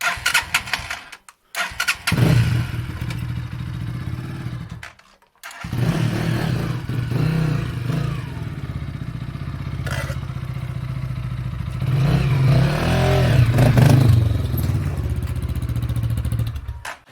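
A heavy motorcycle engine starts in underground tunnels, briefly cuts, then fires again and runs with loud revving and clattering mechanical noise throughout.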